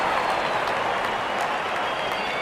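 A stadium crowd at an IPL cricket match between SRH and KKR applauds a six: a dense, continuous wash of clapping and cheering at steady loudness.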